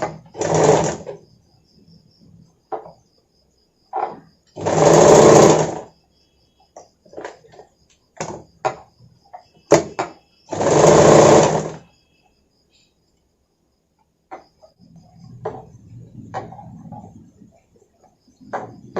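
A sewing machine stitching a katori-cut blouse runs in three loud, close bursts, with quiet handling clicks and taps of fabric being adjusted between runs.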